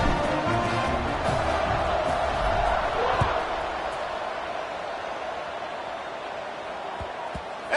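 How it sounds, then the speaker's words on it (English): An American football stadium crowd roars and cheers around a kickoff, a broad continuous wash of noise that stays loud throughout and eases slightly partway through. "this crowd is feeling themselves after that last drive"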